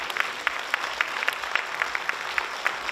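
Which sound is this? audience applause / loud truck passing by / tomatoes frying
audience applause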